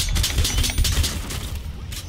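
Shotgun blasts in Splinter Cell: Blacklist, several heavy booming shots in quick succession over busy game noise.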